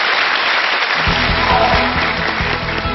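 Sustained audience applause for a lecturer at a televised Korean talk show, a dense steady wash of many hands clapping together, loud and continuous, with a low rhythmic music beat entering partway through.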